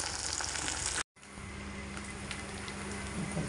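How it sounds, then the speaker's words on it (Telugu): Taro root pieces frying in oil, giving a loud, steady sizzle and crackle that cuts out briefly to near silence before resuming just as strongly. "ఇప్పుడు చక్కగా వేగనిద్దాం"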